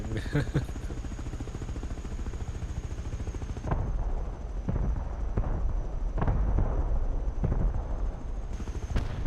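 An attack helicopter in the video game Rust fires a rapid stream of rockets, heard as dense, loud, continuous booming bursts over a steady rotor drone, with a brief pause partway through.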